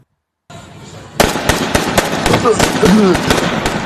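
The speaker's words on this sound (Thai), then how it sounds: "แม่ยิงพ่อทำไม" Several sharp, loud bangs crack out in rapid irregular succession over a noisy background, with a brief pitched cry near the end.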